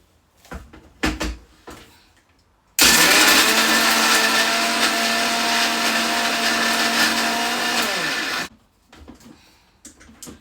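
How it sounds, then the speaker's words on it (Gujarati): A mixer grinder grinds biscuits into crumbs for a kulfi sevaiya dessert: one loud, steady whirring roar lasting about six seconds that winds down in pitch at the end, with light kitchen clatter before and after. "હવે બિસ્કિટને આપણે ગ્રાઇન્ડ કરી લેશું"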